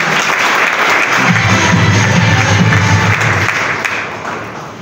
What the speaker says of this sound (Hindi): जोरदार तालियां हो, फिर जोरदार तालियां